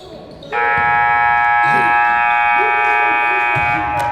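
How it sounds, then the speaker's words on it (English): A loud, sustained electronic buzzer blares for several seconds over crowd noise and an excited voice, ending play at a high school boys' basketball game. "Points for Alexi at the buzzer."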